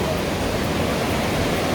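A river rushes at a river crossing near Manali, a steady broadband roar of fast water running throughout, loud and close with no talk over it.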